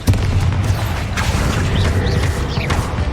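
The Confringo spell going off in the video game Hogwarts Legacy, a loud, dense blast with a continuous low rumble and mechanical crackle lasting about three seconds, with whooshing sweeps and no voices.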